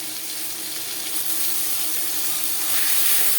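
Ginger and green chili paste hits hot oil with panch phoron, giving a bright, broad hiss that swells slightly louder toward the end.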